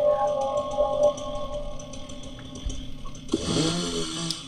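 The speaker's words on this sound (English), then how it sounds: "We got a motherfucking chainsaw" A chainsaw revs in the zombie game Into The Dead, a steady buzzing motor drone that ends in a sudden, louder, harsher grinding burst.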